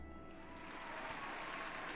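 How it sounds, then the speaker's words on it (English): Pub patrons in a video game break into applause and cheers, a dense wash of clapping that swells and grows louder over the couple of seconds. "cheers and applause rise among the pub's patrons"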